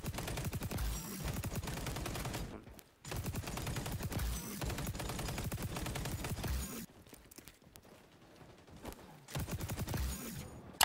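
ACR assault rifle fire in XDefiant comes as long, rapid automatic bursts, loud and continuous, with two brief pauses between strings of shots.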